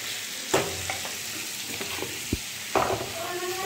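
Potatoes frying in oil in a kadai, a continuous sizzle broken by sharp scrapes and knocks of stirring, close and fairly loud with no talking.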